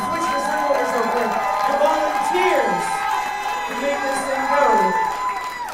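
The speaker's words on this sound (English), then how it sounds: "one last big round of applause for the judges" A crowd at a dance competition cheers, whoops and claps, a loud and lively mix of shouts and applause that carries on throughout, with voices rising and falling over it.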